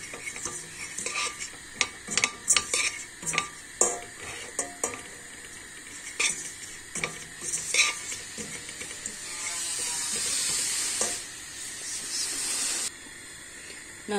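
Spices and peppers, including mint and red pepper flakes, stirred and roasted in a pan at home, with repeated scraping and clinking strokes of a utensil against metal over a steady, louder sizzle building toward the end.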